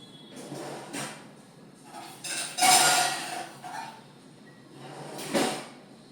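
A bowl is fetched from a kitchen cupboard. Several close clattering knocks and thuds of dishes and a cupboard door come in uneven bursts over steady room noise.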